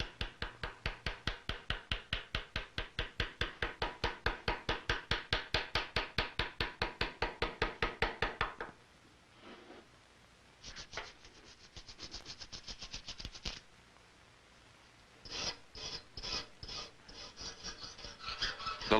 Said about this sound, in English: The majority of the engraving is done with the V-shaped engraver,